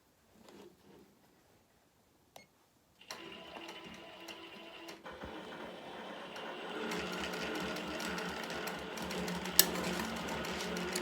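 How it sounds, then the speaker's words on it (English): A sewing machine quilting the fill on an appliqué starts up after a few soft clicks and runs at a steady, rapid stitching rhythm that grows denser and louder as it goes, close by. "now it's starting to quilt some of that fill"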